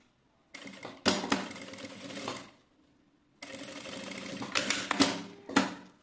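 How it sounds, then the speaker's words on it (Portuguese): A sewing machine stitches a plastic pocket onto a girl's garment, running in two steady, buzzing bursts separated by a short pause, close and loud with no voices. "eu vou passar a costura aqui na parte de cima"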